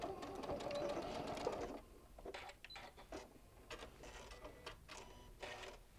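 A sewing machine stitches the last inch of a bean bag seam between orange and red fabric, first in a steady continuous run, then in short stop-start bursts, close and clear with no talk.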